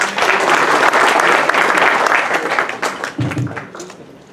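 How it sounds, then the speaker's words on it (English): An audience at a fundraising event for fire victims breaks into loud, dense applause, many hands clapping close up, then tapering off near the end as a voice comes in briefly. "Please give a big round of applause to Mayor Pro Brown and Mrs. Brown."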